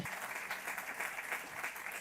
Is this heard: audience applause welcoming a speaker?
yes